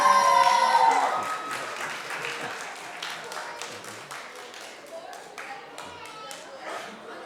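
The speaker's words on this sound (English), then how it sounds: "A round of applause for him." An audience claps for volunteer teachers at an Islamic center event, a burst of applause that gradually thins out while a voice and some chatter carry on over it.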